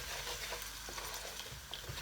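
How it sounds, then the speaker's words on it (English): Spices being stirred in a pot for a Trinidadian spicy rice and fish dish, a steady close sizzle of frying with scraping stir sounds running throughout, no talking. "There we go, give it a stir. So you cook the spices out."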